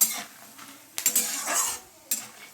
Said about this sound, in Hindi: ये हमारा हो रहा है चूड़ा फ्राई।